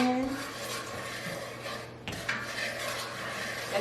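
A spoon scrapes and rasps against a bowl while upside-down peach cornbread cake batter is stirred, giving soft irregular scraping strokes close by with a brief clink.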